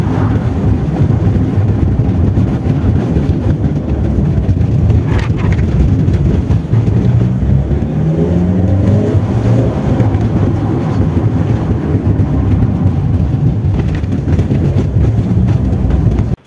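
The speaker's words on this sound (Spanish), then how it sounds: "Ahora voy a ir a probar el furgón." A Renault Kangoo van with its original diesel engine refitted with a mechanical Bosch VE injection pump, heard from inside on a test drive: a loud, continuous low engine drone and road rumble with shifting tones as it accelerates.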